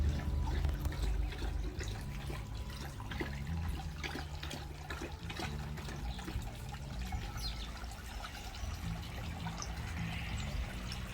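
Water drawn from a garden pond is poured in a rose garden, giving a soft, steady trickle and splash that runs quietly and continuously without talk.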